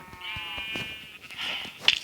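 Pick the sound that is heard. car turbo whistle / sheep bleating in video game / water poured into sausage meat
sheep bleating in video game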